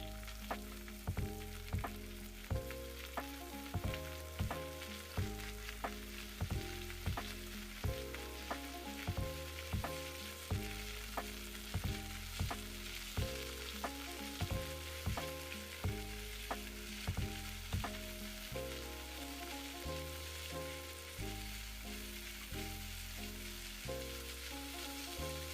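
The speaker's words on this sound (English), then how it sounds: "You're going to fry this for 3 minutes before you add your chopped vegetables." Chopped onions, pepper and tomato fry in hot oil in a pan for a Nigerian-style plantain frittata, giving a steady sizzle with regular stirring scrapes and taps throughout. The sound is quiet and continuous, with no talking.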